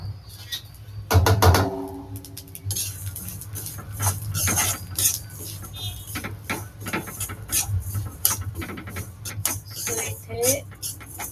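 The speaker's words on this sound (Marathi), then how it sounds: "हे तीळ मी आता भाजून घेणार आहे" Sesame seeds roasting in a spoonful of oil in a pan while making Kolhapuri onion-garlic masala, giving a steady bed of sizzle with dense, irregular crackles and small pops close by.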